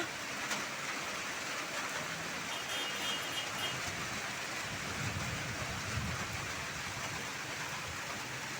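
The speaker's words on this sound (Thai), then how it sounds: "เพราะว่าฝนมันตกนะคะ" Rain falls outdoors over a garden where sweet-leaf vegetable plants grow in pipes. It makes a soft, constant hiss that never breaks, with no voices over it.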